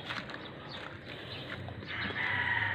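Caged chickens cluck and squawk in a busy, continuous chorus nearby, with no talk over them.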